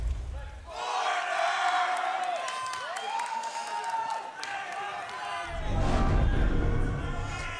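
A crowd at a Clash Royale esports tournament roars and cheers in a big arena, swelling loudly at the start and again near the end beneath an announcer speaking over the noise.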